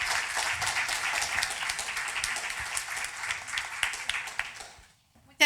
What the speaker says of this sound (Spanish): un gran aplauso aquí para nuestras invitadas